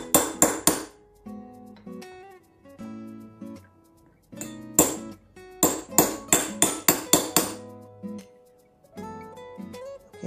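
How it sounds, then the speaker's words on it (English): Metal hammer taps driving a bearing into a Robot Coupe blade bell assembly with a 16mm socket, bright ringing strikes in quick clusters of three to seven, each leaving a short metallic ring between pauses. "So number 16 socket, 16mm socket, we will going to push the bearing inside."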